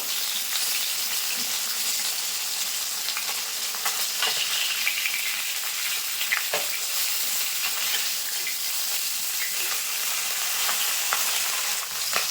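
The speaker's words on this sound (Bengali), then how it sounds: "এক সাইড ভাজা হয়ে গেছে এখন মাছগুলো কিন্তু উল্টে দেবো" Pabda fish frying in a wok of hot oil after being turned over, a continuous loud hissing sizzle with scattered pops and crackles throughout, near and steady, no voices.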